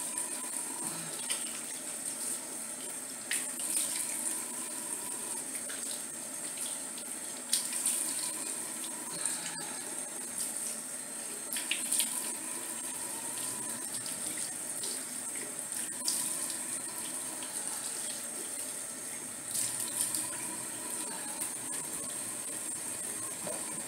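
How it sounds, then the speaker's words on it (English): Tap water runs steadily from a faucet into a sink while soap is rinsed off a face during a morning routine, a continuous close splashing hiss with small bursts, no talking. "So now I'm going to wash this soap off my face."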